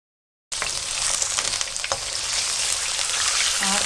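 Chicken pieces hit hot oil in a karahi at a Rawalpindi street food stall, setting off a loud, steady sizzle that starts abruptly and holds, with a few stirring scrapes.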